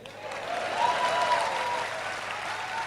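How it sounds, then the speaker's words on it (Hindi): An audience at an Amway diamond success celebration breaks into clapping, a steady, moderately distant wash of many hands that swells slightly then holds, with a faint tonal hum beneath. "ताली किसके लिए बजेगी?"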